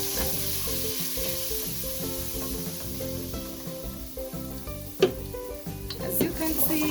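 Onions sizzle in a pot for beef pilau, a steady frying hiss that plays under background music, with a sharp clatter of a spoon against the pot partway through.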